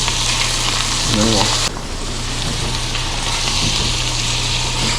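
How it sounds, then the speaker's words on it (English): Sauce hits a hot pan while spaghetti sauce is being made, and a loud, continuous sizzle and frying hiss fills the scene. The tone shifts abruptly partway through, and a voice speaks briefly over it. "So now we're going to deglaze that before it burns."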